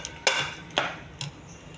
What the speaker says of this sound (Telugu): దీన్ని ఈ పప్పు గుత్తితో మెత్తగా చేసుకోవాలి.